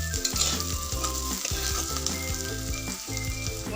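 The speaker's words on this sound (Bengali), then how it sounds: "অল্প একটু ভেজে নিই যাতে সবগুলো মশলা একটু লালচে হয়ে যায়।" Spices fry in oil for a Bengali torka, making a steady, close sizzle with the rhythmic scrape of stirring running throughout and no talk.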